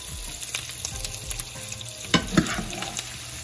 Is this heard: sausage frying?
yes